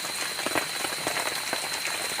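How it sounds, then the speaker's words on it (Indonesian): Heavy rain pouring on a campsite shelter, a dense, steady wash of drops drumming on the roof with scattered louder splashes, no voices. "hujan terlalu deras"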